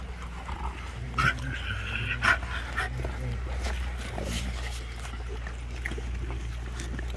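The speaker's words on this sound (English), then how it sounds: "how the dogs really do, how they're really eating, enjoying the food" Rottweilers eating their food, with close wet chewing, lapping and snuffling plus an occasional whimper, over a steady low hum and with some talking mixed in.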